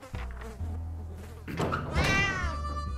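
A cat meows twice in the video game 60 Seconds, a short call then a longer rising-falling meow, close and clear over a low background hum, with no talk.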